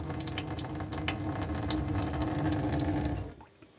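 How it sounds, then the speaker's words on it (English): Steady rushing of water from open hot taps in a caravan, loud and continuous, stopping abruptly near the end and leaving quiet. "You'll open all the taps up on the hot side."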